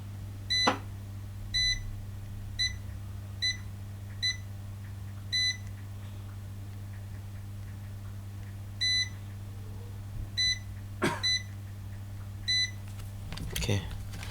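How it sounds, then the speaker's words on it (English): Multimeter continuity tester on a MacBook Pro A1278 logic board capacitor, giving a series of short, clear high electronic beeps in irregular bursts over a steady low hum, with a few clicks of probes. "this one is beeping both sides"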